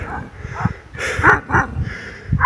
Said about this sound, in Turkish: Çöplükte köpek kaynıyor arkadaşlar.